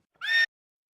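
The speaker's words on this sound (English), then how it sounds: "Horses run off." A single short horse whinny, loud and close, a bright tonal neigh lasting about a quarter second, then silence.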